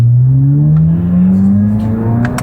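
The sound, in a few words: Corvette ZR1 engine exhaust burble on deceleration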